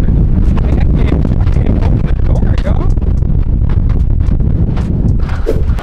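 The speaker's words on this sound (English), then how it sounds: "I don't know if it don't sound windy, but it's a little wind out here." Gusty wind buffets the microphone outdoors after Hurricane Beryl, a loud continuous rumble and rush with someone talking over it.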